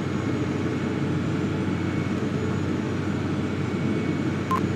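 A Cessna Citation XLS jet in the Prepar3D flight simulator drones with a steady, even engine roar as the throttle is advanced, constant in level throughout with one faint click near the end.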